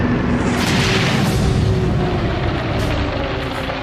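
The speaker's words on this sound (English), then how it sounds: "In July 1943, the Allies bomb Hamburg." Allied bombing raid on Hamburg in July 1943, a steady, loud rumbling roar of heavy explosions blending into a continuous low boom, with no talking.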